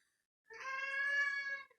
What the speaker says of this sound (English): if you hear my cat meowing at me because he's a little jealous that I'm talking to the phone